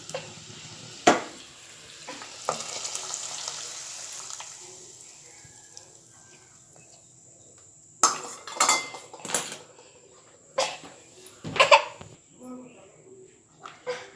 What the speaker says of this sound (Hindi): अब इसे मैं इस दाल गोश्त में बघार दूँगी।